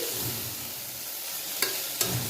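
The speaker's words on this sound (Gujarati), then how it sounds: "ગવાને આપણે સારી રીતે મિક્સ કરી લઈશું" Cluster beans (guvar) are stirred into a sizzling buttermilk-based sabzi in a pan, a steady close frying hiss with two soft spatula scrapes near the end, no talking.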